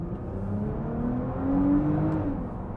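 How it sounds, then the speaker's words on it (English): A Nissan GT-R R35 accelerates hard in second gear, its engine note climbing steadily in pitch over a few seconds as a rising whir heard from inside the car, without speech. "That was a quick blat in second."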